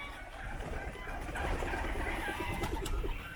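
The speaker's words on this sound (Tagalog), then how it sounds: "Ayan, gaya ng sound nila. Ayan, mga kalapate, oh." Pigeons coo outdoors in a series of soft, repeated low calls over a faint ambient background, with no one speaking.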